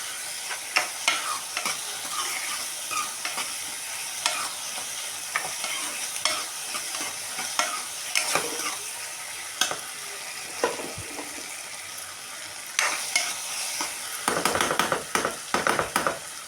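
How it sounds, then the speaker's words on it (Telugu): Tomatoes fry in a pan with a continuous close sizzle while a utensil stirs and scrapes through them in irregular strokes, the scraping growing busier near the end; no voice is heard. "ఇవన్నీ టమాటాలు కూడా మగ్గుకొని చూడండి చక్కగా మగ్గుకొని టమాటాలు."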